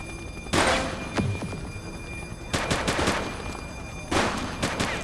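Gunshots in the police simulator video game The Precinct: three separate bursts of loud, sharp gunfire spaced about two seconds apart, each with a few rapid follow-up shots, over a steady background hum.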